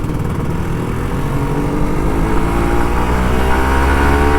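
An old Kawasaki Ninja RR 150 motorcycle riding along, its engine drone steady and loud throughout with rising harmonics as it pulls, plus wind rush, and no voices.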